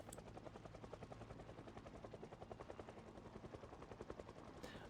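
A helicopter in a zombie video game flies overhead with a steady, rapid rotor chop that stays fairly faint and constant throughout, with no voices.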